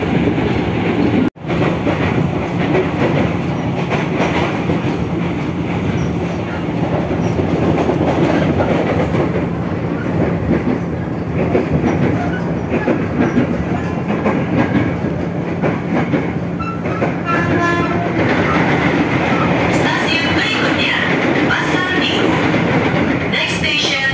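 Commuter train rolling past Tanjung Barat station in Jakarta, loud and close with continuous rumble, wheel clatter and faint squeal over a full stretch, and a brief thump early on.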